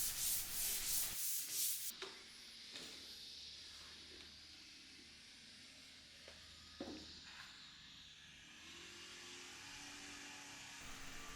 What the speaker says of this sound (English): Just using a very fine surf prep sanding pad.